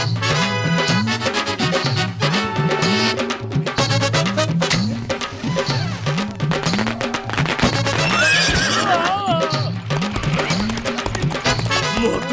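A cartoon horse neighs repeatedly over rapid, steady galloping hoofbeats, loud and close, with a busy music-like backdrop and no talking.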